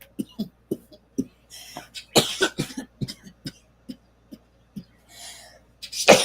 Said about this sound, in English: I have a chronic cough.